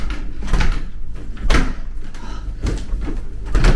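A plastic door in a home knocks and rattles repeatedly as it is opened and shut, close by, with no talk.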